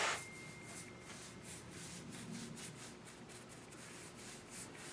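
Steady rubbing and scraping strokes sanding a cherry wood frame, a soft rhythmic back-and-forth abrasion, close up and quiet, with no talking.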